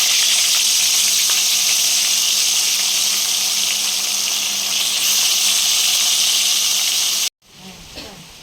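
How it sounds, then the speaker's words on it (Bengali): Tangra fish frying in hot oil in a pan, a dense continuous hissing sizzle heard up close for several seconds before cutting off abruptly into quieter faint noise. "এবার আস্তে আস্তে মাছ দিয়ে দেবো।"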